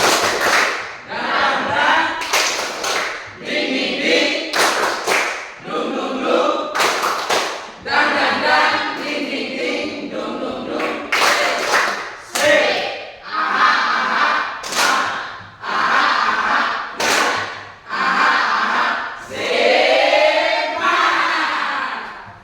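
A school class in a physical education lesson performs the rhythmic spirit clap, loud group clapping in quick patterned bursts separated by short pauses, with voices chanting along and a shout near the end.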